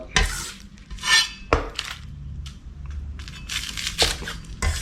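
Crisp crunching bursts as pork-stuffed fried tofu skin is sliced with a knife, several uneven cuts up close with quiet rustling between them.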